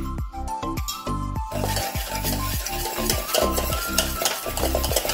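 A spoon stirs ragi flour and roasted rava together in a bowl, giving steady rhythmic scraping and rubbing strokes throughout with no talk.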